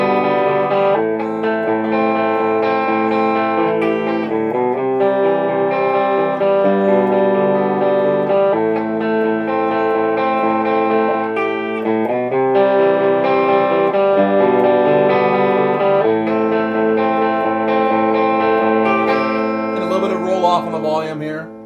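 Electric guitar with the volume knob almost full, played through an amplifier's distortion channel, with thick sustained chords and riffs that carry a heavy low end, steady and loud throughout.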